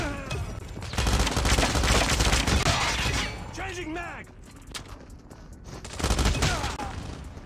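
Bursts of rapid automatic gunfire in Call of Duty Mobile, two loud volleys separated by a quieter stretch of mechanical clicks and game effects, with a voice briefly talking between them.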